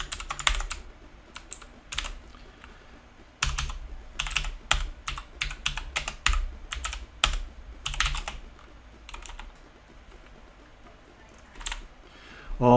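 Computer keyboard typing in irregular bursts of close, crisp key clicks with brief pauses, during a retro 6502 game-jam coding session; no talk over it.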